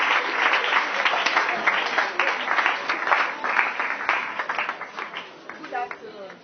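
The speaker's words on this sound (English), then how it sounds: "Let's welcome her with a round of applause." An audience at a community foundation event in Ghana gives a round of applause to welcome someone speaker, a loud, continuous burst of many hands clapping that thins out toward the end, with a voice briefly heard.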